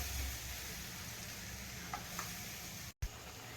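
Mutton frying with black masala for Maharashtrian kala mutton gives a faint, steady sizzle close by, briefly cut out for a moment near the end.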